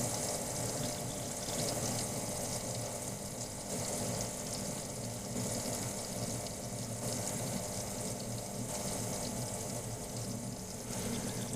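A Keurig B70 Platinum coffee maker pumps water after repair, giving a steady close-up rushing, gurgling flow with a constant low pump hum, loud and unbroken throughout.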